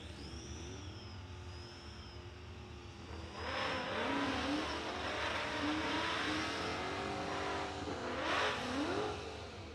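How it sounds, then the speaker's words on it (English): Supercharged Ford Mustang launching at a no-prep drag race, beside a turbocharged AMC Rambler in the other lane. Steady engine roar builds into a loud, sustained revving surge with a supercharger whine, plus a second burst near the end. "You hear the supercharger on Garcia's Mustang, left-hand lane."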